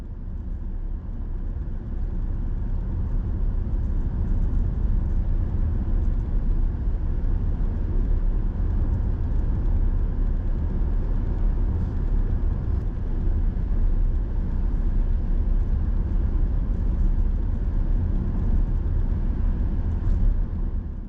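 A car drives along a highway near Merriam Woods and Rockaway Beach in Missouri, with a steady, loud rumble of road and engine noise that runs unbroken for the whole stretch and has no voices over it.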